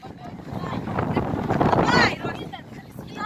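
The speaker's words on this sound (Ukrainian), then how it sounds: "Вітер сильний." Strong wind buffets the microphone with a rumbling roar while people talk outdoors over it at a school sports event.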